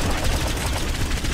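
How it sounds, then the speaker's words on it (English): Twin machine guns blaze nonstop in the top-down shooter Nuclear Throne, a dense, loud, unbroken stream of rapid shots filling the brief moment with no talk over it. "And I'm gonna have double machine gun now"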